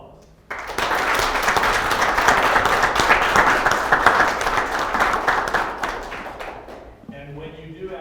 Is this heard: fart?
no